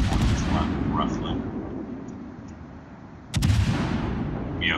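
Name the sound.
warship guns firing in a video game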